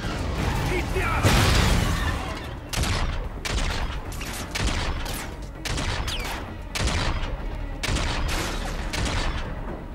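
Repeated heavy bursts of automatic fire in a Call of Duty: Infinite Warfare battle, loud chattering volleys broken by short gaps, with German-speaking voices calling out in the mix.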